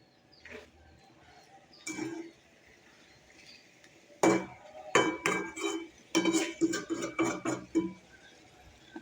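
A metal spoon stirs and scrapes taro stolons with turmeric, chili and spices in a cooking pot, giving a run of close, clinking knocks and scrapes that build from sparse taps into a steady, busy clatter.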